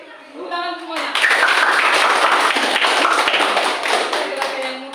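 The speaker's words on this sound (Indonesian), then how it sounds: "Oke, tepuk tangan semuanya" A gymnastics class of students claps together in a dense, loud burst of applause lasting several seconds, with voices audible just before and as it fades.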